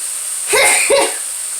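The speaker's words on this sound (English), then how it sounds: "that's from the hot chili, and I coughed into my sleeves" Two quick, close coughs in a row from a person cooking with hot chili, sharp and fairly loud over a steady background hiss.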